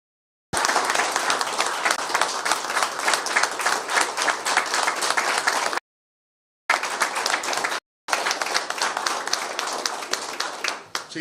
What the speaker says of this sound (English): So I would ask for everyone in the room a round of applause for all of them.